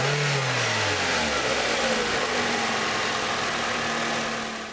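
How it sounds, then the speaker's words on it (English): The small engine of a 2014 Toyota Corolla runs noisily, its pitch dropping as the revs settle into a steady, fairly loud hum with a rough mechanical drone, close and alone without talk. "in smaller engines like this, it's noisy"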